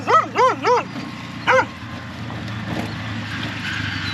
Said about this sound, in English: I really thought those were going to be chill street dogs.